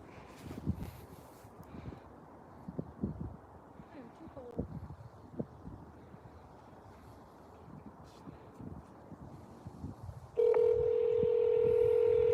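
Telephone keypad dialing tones from a phone being used to call someone, heard under low voices and rustling, with a single steady tone clearly taking over during the last two seconds.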